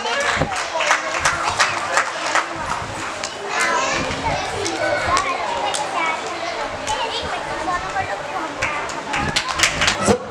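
An audience at a housing society annual general meeting claps in welcome, scattered, uneven applause running throughout amid lively chatter and children's voices in a busy hall.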